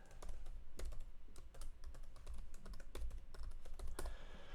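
Computer keyboard typing a project name, a quick irregular run of light key clicks close to the microphone, alone without any talking.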